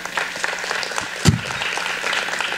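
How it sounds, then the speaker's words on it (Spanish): Steady applause from an audience at a singing competition show opening, with one sharp louder clap or thump partway through. "Fuerte el aplauso."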